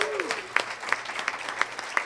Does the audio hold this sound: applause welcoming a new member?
yes